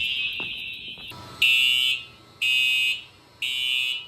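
Building fire alarm sounding during an audio-visual test, a continuous loud horn tone that breaks into three evenly spaced half-second blasts.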